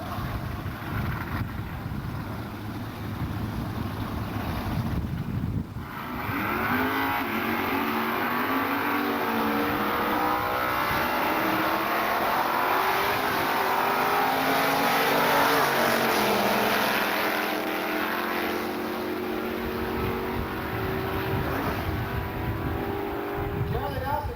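Chevrolet Chevelles and other cars race down a drag strip, their engines roaring steadily loud and rising in pitch as they accelerate away, with wind buffeting the microphone throughout.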